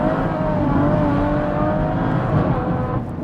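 Flat-out acceleration of an 880bhp BMW M140i, a loud, continuous engine roar rising in pitch through the revs, heard close from inside the car with no talking.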